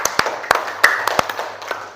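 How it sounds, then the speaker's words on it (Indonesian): A small classroom group claps briefly, sparse uneven hand claps that are close and distinct, fading quickly within a couple of seconds. "tepuk tangan untuk semuanya"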